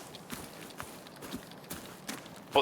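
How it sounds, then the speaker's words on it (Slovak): Running footsteps in the first-person shooter Arena Breakout, a series of quick, fairly faint thuds at an irregular pace, heard alone without talk. "Počujem dupot."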